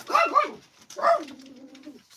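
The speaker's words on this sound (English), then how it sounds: "That's my dog." A pet dog gives two short vocal yelps, the second drawing out into a longer whine-like tone, fairly close and clear against an otherwise quiet room.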